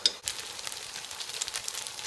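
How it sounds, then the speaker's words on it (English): Butter sizzles steadily in a pan of sweet vermicelli as the syrup dries up, a close, continuous crackling hiss with no talking. "as you can hear, the butter is now sizzling on the sides"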